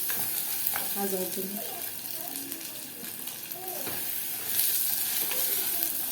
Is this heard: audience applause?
no